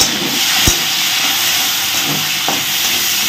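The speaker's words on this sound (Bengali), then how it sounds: "তেলের মধ্যে দুটো কাঁচা লঙ্কা দিলাম আর সামান্য পেঁয়াজ কুচি দিয়ে দিলাম" Green chillies and chopped onion sizzle in hot oil while cooking a bamboo shoot dish, a steady broadband hiss with no voices and a brief clatter near the start.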